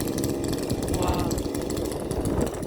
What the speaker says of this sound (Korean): 참나무를 자른다 하시네요